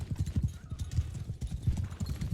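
Rapid clip-clopping hooves of several horses galloping in a mounted-warrior video game, a steady drumming rhythm with an occasional faint whinny, close and fairly loud.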